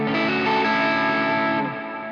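An electric guitar chord rings out through a low-gain overdrive pedal, mildly crunchy, sustaining loudly before the notes shift and fade slightly, alone.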